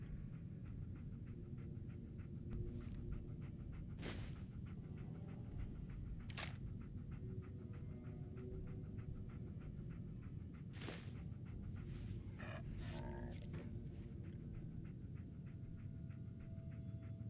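Dogmeat, the dog in Fallout 4, panting steadily and rhythmically at close range for a long stretch. A few sharp clicks and brief noises break through the quiet background.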